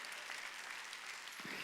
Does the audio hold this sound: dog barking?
no